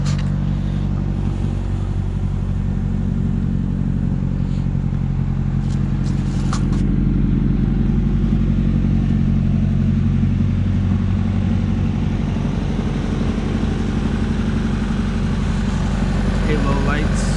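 A 1996 Honda Civic project car that needs a lot of work runs at a steady idle, giving a continuous low engine rumble with a slight clattery edge, close by and unbroken for the whole stretch.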